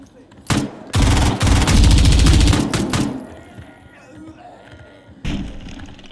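Rapid bursts of loud pistol gunfire in the video game Zero Hour during a hostage mission, several quick shots in a row followed by a quieter stretch and another shot.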